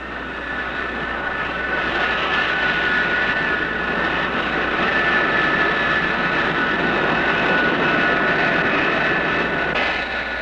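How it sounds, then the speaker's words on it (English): American F-105 and Phantom jet fighters take off from a Thai air base in 1967, a loud continuous jet-engine roar with a steady high whine, sustained close and without speech. "These planes, American F-105s and Phantoms, take off from these bases daily to bomb targets in North Vietnam."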